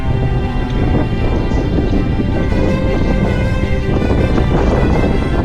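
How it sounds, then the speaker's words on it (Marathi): Strong wind battering a hilltop fort in dense fog, a loud continuous roar of gusts buffeting the microphone, rumbling and unbroken throughout with no voices. "खूपच जास्त जोराचा वारा आणि दाट धुके किल्ल्यावर पडले होते."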